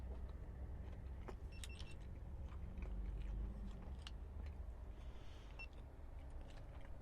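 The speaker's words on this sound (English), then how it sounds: "I'm still chewing." Someone chews and bites food inside a parked car: quiet, close mouth sounds and soft crunches come in short irregular bursts against a low hum, with a faint jingle of keys and no talking.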